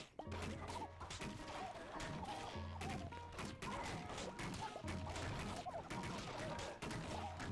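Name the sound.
turrets firing at a boss in video game Atomicrops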